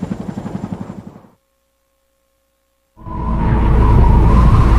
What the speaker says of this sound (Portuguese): um helicóptero agora podia levá-los para a segurança